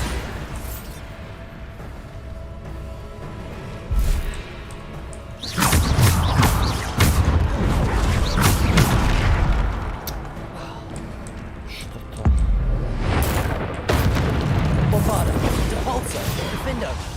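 Bombarda spell blasts in Hogwarts Legacy, a series of loud crashing bursts and booms in clusters over a game soundscape, with a voice talking throughout.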